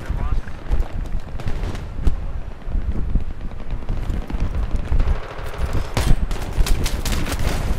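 M16 rifle burst fire in the Battlefield 3 video game, a dense run of loud, close gunshots and explosive game effects, with a voice talking over it.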